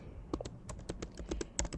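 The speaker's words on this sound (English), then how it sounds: "So let's just type it." Brief burst of typing on a computer keyboard, quick irregular key clicks close by and fairly faint, with no talk.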